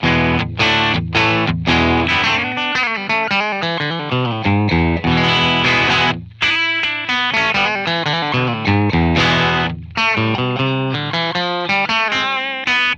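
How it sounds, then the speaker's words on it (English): A Fender Vintera III Mid '60s Jaguar electric guitar plays alone in a clean tone, picking a steady run of notes and ringing chords that sustain between strums, loud and close. "here are some clean tones from the guitar"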